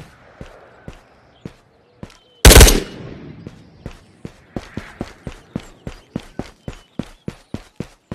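Gunfire in the video game Ghosts of Tabor: one loud close burst, then a long run of sharp, evenly spaced single shots that grow louder, with a few scattered shots before it.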